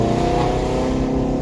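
Twin-turbo Ford Mustang Shelby GT350 sleeper running on E85, its exhaust giving a loud, steady, close burble with an uneven Subaru-like rumble.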